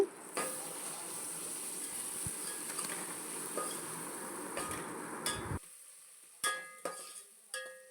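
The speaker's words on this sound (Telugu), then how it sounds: "అల్లం వెల్లుల్లి పేస్ట్ పసుపు ఇవి కూడా యాడ్ చేసుకొని మంచిగా ఫ్రై చేసుకోవాలి చాలా తక్కువ లో ఫ్లేమ్లో పెట్టి ఫ్రై చేసుకోండి" Ginger garlic paste and turmeric frying in a pan over a very low flame give a steady, faint hiss that cuts off partway through, followed by a few sharp clicks and knocks.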